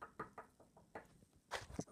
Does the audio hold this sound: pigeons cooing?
no